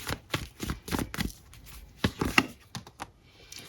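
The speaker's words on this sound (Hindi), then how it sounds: "कुछ कार्ड निकाल के देखती हूँ" Tarot cards shuffled and drawn by hand, a string of soft irregular slaps and flicks up close, quieter toward the end.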